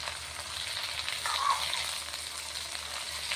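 Onions and drumstick leaves frying in oil for an egg curry, a steady soft hiss and crackle of sizzling throughout, close and fairly quiet with no talk.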